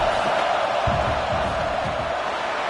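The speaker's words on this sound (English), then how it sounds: "This crowd trying to do its part to get inside the kicker's head." Steady roar of a stadium crowd in College Football 26 as a field goal attempt lines up, a dense continuous wash of voices with occasional low thumps and swells, loud and close throughout.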